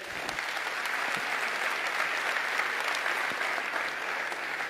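Sustained applause from an audience at a speech, a dense steady wash of clapping that carries evenly from start to finish without any voices over it.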